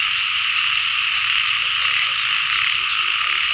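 Frogs croak in a rice field after rain, a dense and continuous chorus that stays loud and even throughout, with no voices over it.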